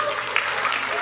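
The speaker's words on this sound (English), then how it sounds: "Ladies and gentlemen, let's give a warm round of applause to Bete Demeke." An audience at a Rotary district conference in Diani breaks into dense, continuous applause for a speaker, the clapping filling the whole moment with a faint voice mixed in.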